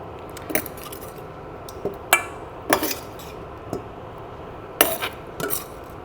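Cooked chicken lifted out of a pan with a utensil, giving sharp metallic clinks and scrapes against the pan at irregular intervals over a faint, steady background hiss.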